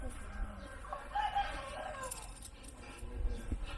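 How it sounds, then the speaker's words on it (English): Roosters crow in the distance in Kampot, Cambodia, over steady outdoor background noise, a few calls overlapping faintly. "whole rooster population's here"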